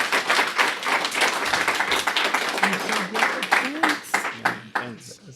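Scattered audience clapping at a live camp event, moderately close, mixed with overlapping voices and talk throughout, the clapping tapering off toward the end.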